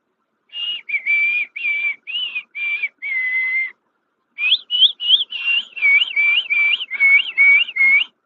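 A person practicing whistling produces a string of short, wavering whistled notes in two bursts with a pause between, close and loud, some tones wobbling like bird calls, with no talking.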